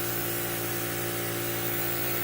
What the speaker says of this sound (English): so I'm gonna go ahead and spray it now.